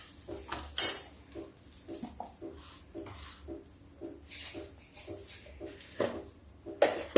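Peas and poha stirred together in a pot with a spoon: repeated light metallic scrapes and clinks in an irregular rhythm, close and fairly quiet, with no one talking.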